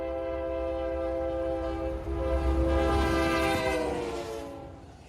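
A huge freight locomotive on a busy main line blasts its horn as it reaches a grade crossing in fog. The loud, sustained chord swells and holds over a deep rumbling rail roar, with no voices.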